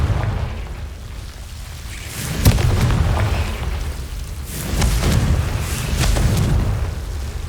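A Confringo fire spell blasts in Hogwarts Legacy, producing a sharp boom followed by rolling, rumbling bursts that rise and fall over several seconds at close range.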